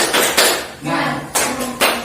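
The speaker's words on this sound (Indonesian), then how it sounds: "Ayo coba bersama-sama. Tepuk semangat." A primary school class claps together in a short rhythmic spirit clap, several sharp bursts of hands in unison close by, with voices chanting along between the claps.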